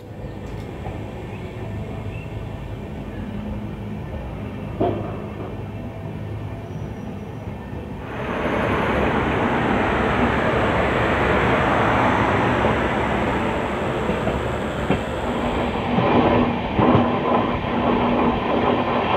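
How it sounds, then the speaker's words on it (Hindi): The Samleswari Express on the Jeypore-Koraput-Rayagada line rolls around a curve toward the Maliguda range. A quieter rumble swells about halfway into a loud, steady roar of wheels on rails with a faint clickety-clack. No one speaks. "तो पूरा ट्रेन अभी कर्व कर रही है मालीगुड़ा रेंज की तरफ"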